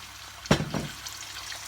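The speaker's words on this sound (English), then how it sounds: "Now you're going to add some water" Water goes into a hot pan of sizzling stuffed pepper filling, a sharp burst of hiss and bubbling that quickly fades into a steady, softer frying sizzle.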